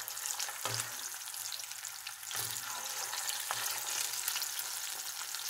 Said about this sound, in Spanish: Aquí lo tenemos friendo el huevo